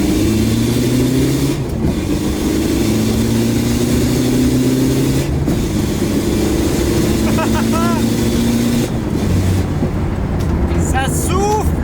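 Peugeot 205 fitted with a 1.9-litre turbodiesel from a 306, heard from inside the cabin as it accelerates through the gears, a loud steady drone rising in pitch and dropping at each shift, with whistling turbo noise and occasional talk.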